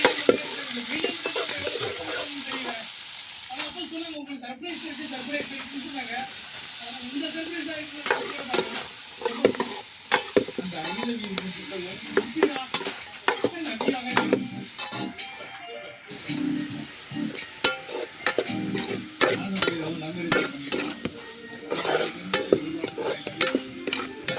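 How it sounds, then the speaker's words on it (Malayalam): Chicken curry ingredients sautéing in oil in a pan, with steady stirring scrapes and a soft sizzle running throughout, close and moderately loud, plus faint bird calls in the background. "നമുക്കത് വഴറ്റിയെടുക്കാം."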